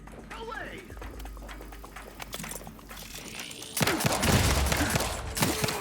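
Gunfire and grenade blasts ring out in The Outer Worlds 2, with scattered shots and then a dense burst of loud explosions and fire in the second half, mixed with game sounds.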